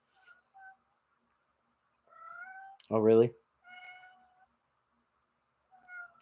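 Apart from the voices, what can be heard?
cat meowing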